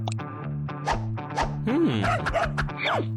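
Dog barking in a cartoon-like setting: a series of short bow-wow barks and yips, close and loud, interleaved with sustained tonal background sounds across the clip.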